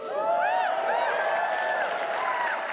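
An audience applauds and cheers in a played recording, with steady crowd clapping running throughout along with rising and falling whistle-like cheers.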